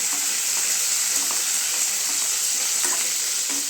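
Bitter gourd frying lightly in oil, a loud continuous sizzle with scattered small pops and faint stirring scrapes, close and steady.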